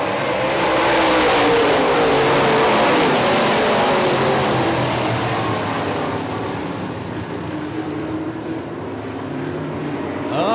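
UMP late model dirt race cars roar up to speed together at the green flag at Hartford Speedway Park, a loud, dense engine wall that swells and then slowly recedes into the distance, with no talk audible.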